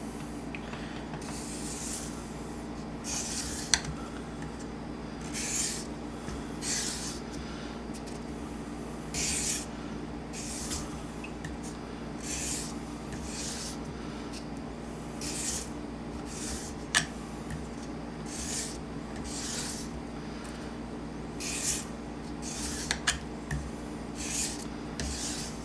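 A knife blade is stroked repeatedly across a sharpening surface to put on a convex edge, each soft rasping pass coming at an even, unhurried rhythm over a faint steady hum.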